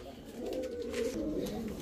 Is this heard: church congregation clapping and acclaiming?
no